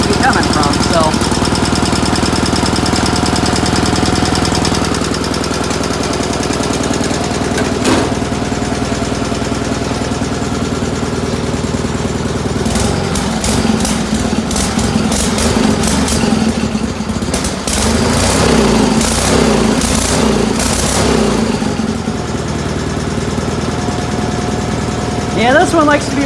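An old tractor engine runs loudly and steadily at a plow day, with a rhythmic knock coming from the front cylinder. Someone talks over the engine.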